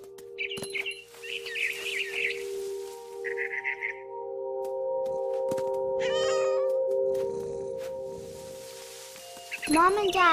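A cat in What Remains of Edith Finch meows several times, short close calls early and a louder drawn-out meow at the end, over a humming tonal game background with bird chirps in between.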